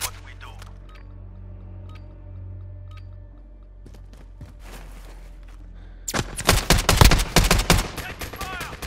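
Gunfire in Modern Warfare 2v2 Alpha: after several seconds of quiet ambience with faint footsteps, a loud rapid burst of automatic fire erupts close by and continues to the end.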